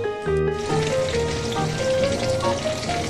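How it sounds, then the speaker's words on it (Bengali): Prawns sauté in hot oil, a loud, dense, continuous sizzle that crackles steadily close by with no pauses. "এখানে আমার চিংড়ি মাছটা সাতলানো একদম কমপ্লিট"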